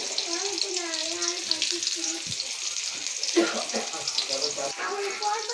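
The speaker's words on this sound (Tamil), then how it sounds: "இதை நல்லா வதக்கிக்கலாம்." Onion, crushed garlic and more onion sauté in a pan with a bright, constant sizzle, stirred with scraping strokes. Faint tonal background sounds run beneath.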